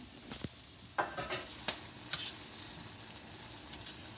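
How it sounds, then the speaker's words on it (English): Vegetables from a home garden fry in a pan, a soft steady sizzle with occasional stirring clatters and scrapes standing out near the start. "show you this shot of these vegetables cooking"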